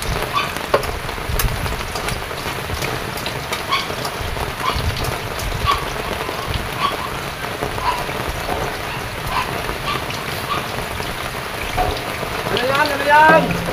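Steady rain patters on a surface throughout, a dense continuous hiss with scattered drops and faint voices in the background.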